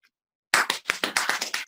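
Hand clapping: a quick run of about eight sharp claps in close succession, near and fairly loud, starting after a moment of silence.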